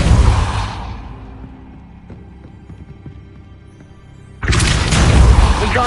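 Depulso spell cast in Hogwarts Legacy: a loud, close booming whoosh opens, fades into a quieter lull, then a second forceful blast hits near the end.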